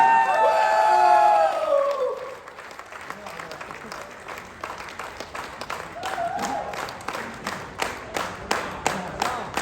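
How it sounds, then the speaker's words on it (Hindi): An audience at an achievers award program in Dubai cheers and whoops at first, then settles into sustained clapping that turns to steady, rhythmic claps, with voices mixed in. "यस, ताली के साथ एकदम।"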